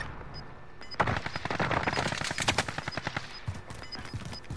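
Gunfire in Call of Duty Cold War Warzone: a rapid automatic burst of shots in a quick steady rhythm, moderately loud against a quieter game background.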